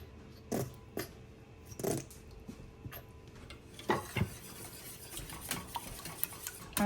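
Mac and cheese sauce being stirred in a pot for a baked mac and cheese, with a few distinct spoon scrapes and knocks against the pot spaced through a quiet background, and no talking.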